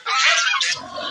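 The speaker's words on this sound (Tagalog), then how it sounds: "yun yung mga alaga nating gansa." A farm goose gives a loud, harsh, nasal honk close by, one drawn-out call fading into a softer rasp at the end.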